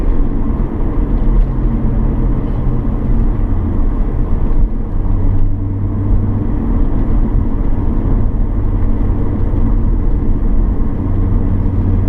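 A 2001 Audi B5 RS4 BiTurbo Avant pulls steadily in third gear, its engine and road noise forming a loud, continuous low rumble from inside the cabin, with no voices.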